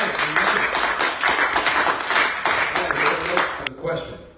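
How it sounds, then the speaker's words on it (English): Dense, sustained applause from an evening audience, many hands clapping together for several seconds before it breaks off abruptly. "Let's have a round of applause for the people that are here tonight."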